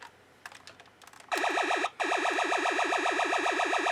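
A Kusan Sonic Fazer toy ray gun firing its antigravity effect: a few soft clicks, then a loud, continuous warbling electronic tone that pulses rapidly and steadily, briefly cutting out once before resuming.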